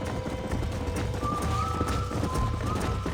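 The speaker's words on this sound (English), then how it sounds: "There's the horses!" Horses gallop in the video game Red Dead Redemption, a quick, steady clip-clop of hooves running close by beneath faint game music and ambient sound, with a brief whinny possible.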